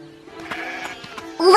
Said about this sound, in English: look at the cute goats in their pen.